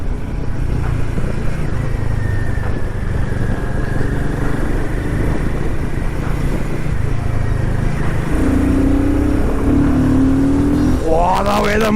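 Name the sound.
motorcycle engine grunting under acceleration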